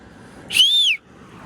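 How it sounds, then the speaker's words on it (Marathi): A single loud one-handed finger whistle rises and then falls in pitch, held for about half a second against quiet background noise. "एका हाताने वाजवतोय आम्ही शिट्टी."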